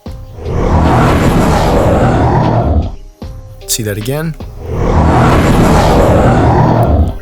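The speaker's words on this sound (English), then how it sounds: "So this is the R roar." A dinosaur in Roblox Dinosaur Simulator lets out two loud, rough, drawn-out roars, split by a brief spoken line between them.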